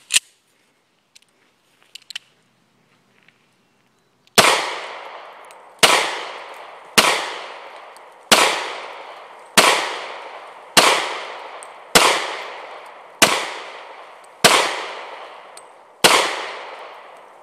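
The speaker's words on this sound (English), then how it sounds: "And take a couple shots with it." A Beretta PX4 Storm Sub-Compact .40 pistol fires about ten loud, evenly spaced shots, each cracking sharply and ringing out outdoors, after a few faint handling clicks.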